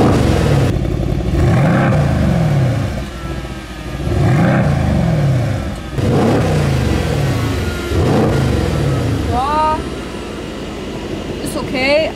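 Mercedes-AMG C63 S facelift V8 revved repeatedly in comfort mode with the exhaust flap closed: several rising and falling revs spaced a couple of seconds apart, fairly muted, with a person talking at points.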